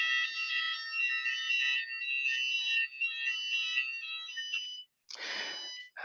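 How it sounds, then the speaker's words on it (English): An electronic alarm at Purcell House rings loud and steady with bright tonal bursts, cuts out briefly, then sounds again with a harsher burst. "So that's the alarm going off at Purcell House."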